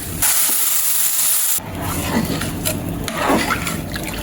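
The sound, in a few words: water poured into pot of fried rice and lentils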